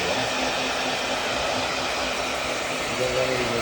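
A handheld hair dryer drying screen printing emulsion blows with a loud, steady whooshing roar and a constant motor whine, close to the microphone. The sound runs unbroken from start to finish.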